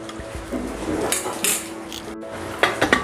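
A metal pressure cooker lid is fitted onto the pot for jeera rice, producing a few close clanks, scrapes and metallic clinks in quick succession.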